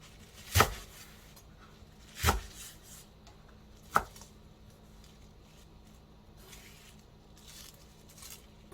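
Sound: knife chopping garlic chives into long pieces

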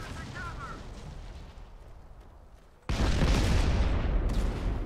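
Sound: artillery strike explosions in Modern Combat 5 video game

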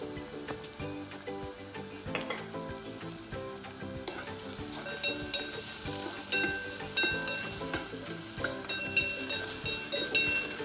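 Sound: frying spices for chicken curry

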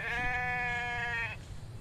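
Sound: sheep bleating in a video game

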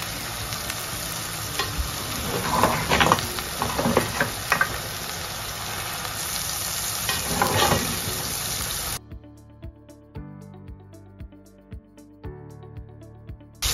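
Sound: meat and sauce frying and being stirred in a pot

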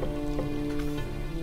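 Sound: rain in video game background, Gryphon Knight Epic

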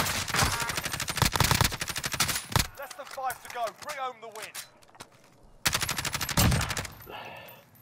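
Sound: gunfire in Call of Duty: Modern Warfare video game

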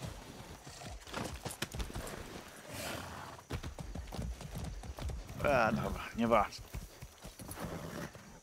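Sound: horse hooves and neighing in the video game Far Cry 6

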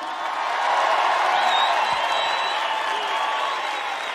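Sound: audience applause and cheering for Chango Spasiuk

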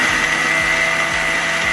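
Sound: blender blitzing almonds, dates and salt

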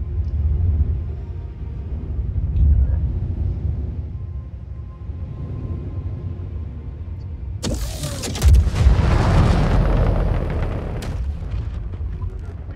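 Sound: S9 torpedo striking an iceberg wall

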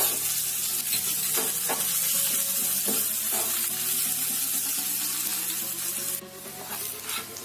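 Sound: curry leaves tempering sizzling in oil

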